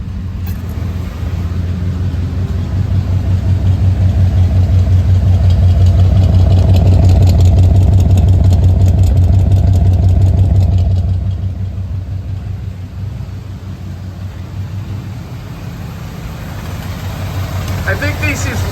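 A 1985 Chevrolet Monte Carlo SS idles after a cold start, a loud, steady low rumble that eases to a lower, smoother idle partway through, close by, with talk over it at times.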